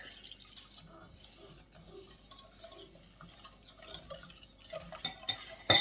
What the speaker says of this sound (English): I'm using my French whisk so I can get into the corners of the pan